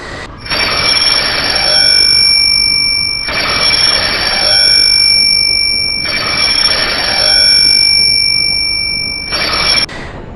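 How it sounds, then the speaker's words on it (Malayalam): A loud, shrill Swiggy food delivery app order alarm rings in repeated bursts, about three long pulsing rings separated by short gaps, with a steady high tone underneath. "സ്വിഗ്ഗിൻ്റെ അലാറം വരുന്നത് ഈ കൊണോ കൊണോ കൊണോ കൊണോ"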